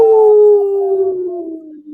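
A long, loud, sustained howl with a slowly falling pitch, close and clear, fitting a small pack of three wolves; no talking over it.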